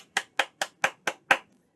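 Six sharp hand claps in an even, quick rhythm, close and distinct, each with a short decay, followed by silence.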